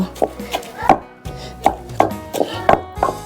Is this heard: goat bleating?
no